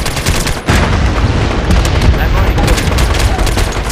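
Dense gunfire in the online shooter MAG, with rapid automatic bursts and heavy booms packed tightly together, loud and close throughout, and players talking over the shooting.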